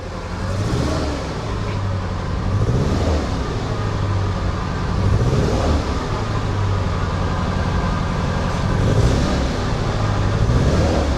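An engine on a cheap used 4x4 runs unevenly, its rough drone swelling and sagging in a slow repeating cycle, loud and close with no talk.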